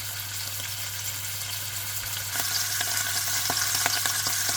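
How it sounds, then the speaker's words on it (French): A veal roast sears in grapeseed oil over medium heat, a steady close sizzle and crackle with scattered pops that grows slightly louder halfway through. "On prend bien le temps de rôtir le rôti de veau sur tous les côtés dans l'huile de pépins de raisin, tout doucement, à feu moyen."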